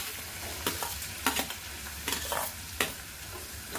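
Onion frying in a small amount of oil for a ghevda bean vegetable dish, a steady close sizzle broken by several crisp spoon strokes against the pan, with no one talking.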